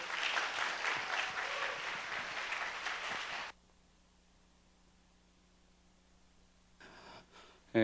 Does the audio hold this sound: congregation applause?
yes